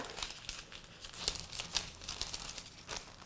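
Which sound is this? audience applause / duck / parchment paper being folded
parchment paper being folded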